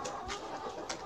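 Hens in a coop, among them Blue Brahma, Plymouth and Sussex breeds, give a few faint, brief clucks close by.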